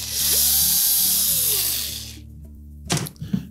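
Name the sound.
removing Phillips screws from GE range control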